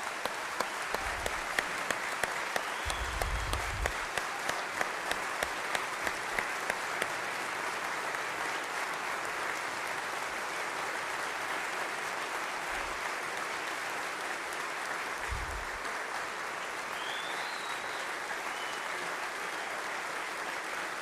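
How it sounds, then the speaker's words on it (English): Audience applause at a State of the State address, a steady sustained patter of many hands clapping at moderate distance, lasting the whole stretch without speech. "Give her another round of applause."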